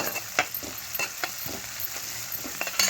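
A spoon stirs spices through onions frying in a pan for a gobi mealmaker kurma, giving a steady sizzle broken by regular scraping and clacking strokes, close and fairly loud.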